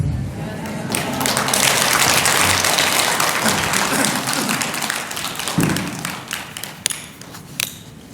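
A large audience claps steadily at a Buddhist dharma assembly, the Mahaprajnaparamita relay gathering; dense, sustained applause fills the hall, then thins toward the end into a few scattered louder claps.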